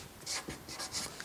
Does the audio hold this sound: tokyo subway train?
no